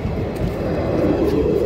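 Train passing close by, a steady broad rumble with rattling roar holding at a loud, even level throughout.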